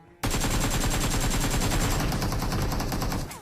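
Shotgun fire in PUBG, a sudden, loud, sustained burst of rapid shots lasting about three seconds before cutting off.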